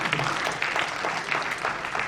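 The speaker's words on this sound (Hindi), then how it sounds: "आपकी तालियों में कमी नहीं होनी चाहिए।" Audience applause at an Urdu-Hindi poetry mehfil (mushaira), a steady wash of many hands clapping throughout, fairly dense and even with no clear pauses.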